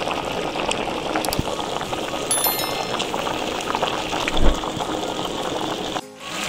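Spiced basmati rice cooking in a pot for Comorian mandi, a continuous bubbling simmer with a brief surge of liquid near the end before it quiets.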